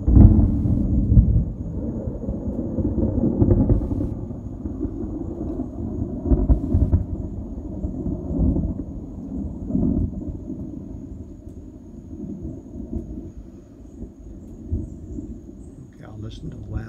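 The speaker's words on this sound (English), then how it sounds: "I'll listen to the last clap of thunder" Thunder rumbles through an afternoon thunderstorm, a deep, rolling, fairly near roar that is loudest at the start and then slowly fades into a low, lingering grumble.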